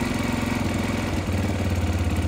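Bashan CR250 dirt bike with a carbureted engine, warmed up and idling on half choke, a loud, close, steady throbbing idle whose pitch shifts slightly partway through.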